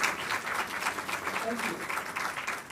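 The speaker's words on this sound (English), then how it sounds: "give a huge round of applause one more time to sir" An audience applauds at a school parenting talk. The steady, dense clapping is moderately distant and fairly soft, with no clear voices, and it lasts under three seconds.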